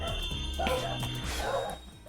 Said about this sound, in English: they don't stop barking